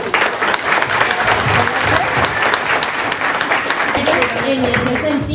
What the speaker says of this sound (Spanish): Yo creo que vamos a darles un muy fuerte aplauso.